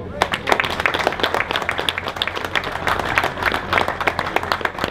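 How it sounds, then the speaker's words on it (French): Audience applause at a local outdoor event in Castellane, a dense, steady crackle of many hands clapping for the volunteers, close and continuous with no talk over it. "Mais je voudrais qu'on les applaudisse bien fort."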